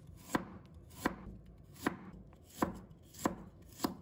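A kitchen knife slices fresh ginger on a cutting board: six crisp, evenly spaced chops, quiet and close, with no talk.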